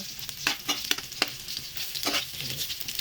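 Garlic and onion sizzling and frying in a pan for ampalaya with egg, a steady crackling hiss broken by sharp scrapes and stirring clatters of a utensil against the pan.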